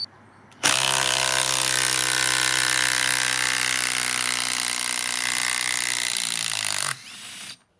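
A Makita impact driver, 18V or 40V class, drives screws deep through a stack of boards in one loud, sustained whirring, hammering burst of about six seconds, with no talk over it.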